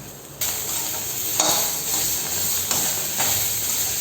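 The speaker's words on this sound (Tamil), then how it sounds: "தக்காளியினுடைய மேல் தோல் திரும்பி வர்ற வரைக்கும் வதக்கணுங்க" Tomatoes sauté in a pan, giving a continuous close sizzle with a few stirring scrapes and small bursts of louder frying, and no one speaking.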